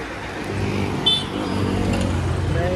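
Road traffic rumbles steadily outside a vintage car show in a busy crowded area, with car engines droning nearby and a brief horn-like tone partway through.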